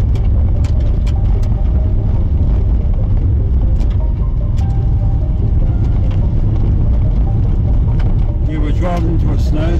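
A two-wheel drive car driving on a gravel road into a snowstorm, its engine rumbling loud and constant inside the cabin, with scattered tyre crackle and knocks from the surface.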